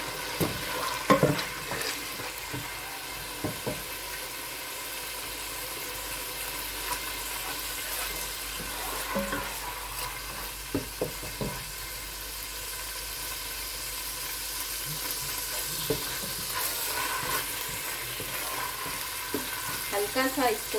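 Garlic ginger paste fries in about half a cup of oil with a steady sizzle, while intermittent stirring adds scrapes and clicks against the pan, close up and without speech.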